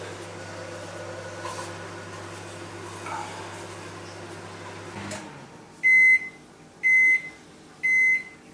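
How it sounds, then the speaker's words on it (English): A microwave heating water hums steadily, then stops and gives three loud, evenly spaced beeps about a second apart. "you have to put your water in the microwave"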